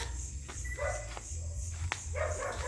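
A dog gives a few short barks and yips against a steady, noisy outdoor background, moderately close, with no clear talking.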